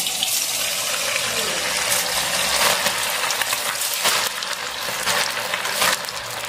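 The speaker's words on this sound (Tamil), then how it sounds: "இப்போ நம்ம வந்து சிக்கன் வந்து கலந்து விட்டுட்டு ஒவ்வொரு பீஸும் எடுத்து நம்ம ஆயிலில் போட்டுக்கலாம்" Marinated chicken pieces for chicken Manchurian frying in hot oil, a loud, steady, crackling sizzle heard close up, with brief louder bursts as pieces are dropped in or stirred.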